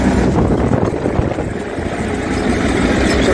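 An Eicher 333 tractor's engine runs steadily at close range, a continuous low rumble with no talk over it.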